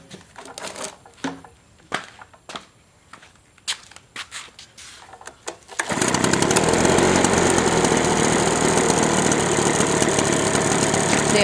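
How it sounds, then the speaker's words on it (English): Husqvarna 130BT backpack blower after a cold start: several rapid pull-cord rattles and clicks, then the two-stroke engine catches and runs at a steady, loud, buzzing idle close by. "This is at idle, and it's really quiet."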